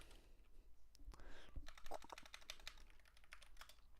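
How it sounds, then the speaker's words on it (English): Rapid typing on a computer keyboard during a night stream, a steady run of crisp key clicks with brief pauses, fairly faint and close, with no voice over it. "I cannot keep up with typing as fast as he talks"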